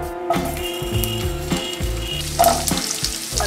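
Potato pieces dropped into hot oil in a nonstick wok while cooking sabudana khichuri, bursting into a loud, crackling sizzle with clattering spatula strokes, close and clear with no talking.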